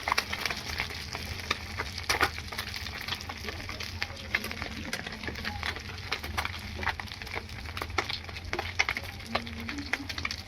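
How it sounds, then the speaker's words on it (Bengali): Fish sizzles and crackles in hot oil, with sharp popping spatters scattered throughout and a low hum underneath. "এই মাছগুলো কিন্তু আমি কড়া করে ভাজবো না, একটু নরম করেই ভাজবো"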